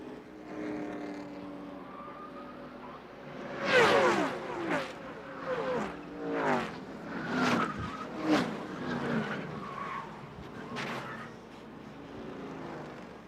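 NASCAR stock cars in the 1997 Diehard 500 at Talladega Superspeedway crash on the backstretch at over 190 mph, with a steady engine drone broken by a series of loud, sharp skidding and impact bursts.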